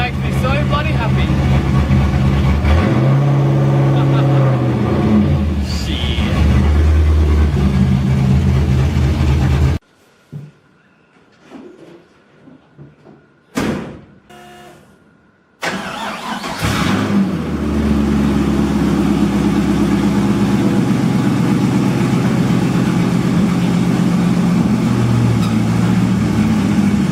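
A Nissan S13 fitted with a V8 engine, loud and close, rumbling and revving hard, cutting out abruptly, then cranking and firing back up into a deep steady idle, with someone talking over it.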